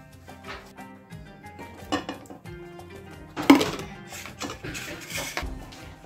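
A cheese and mortadella filling mixed in a bowl, with light clinks and scrapes of a utensil against the dish, soft and close, and one louder clatter partway through.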